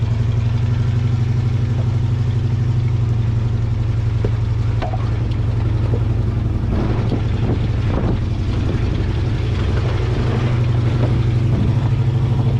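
A square body truck engine runs steadily in two-wheel drive through a muddy patch, a loud constant low drone with rattles and clatter from the body throughout, no voices.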